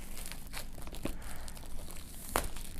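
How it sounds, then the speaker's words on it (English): Plastic wrap is torn and crinkled off a Samsung Galaxy S III box in a few sharp, close rips amid soft rustling, with no talk. "Go ahead and rip the plastic open."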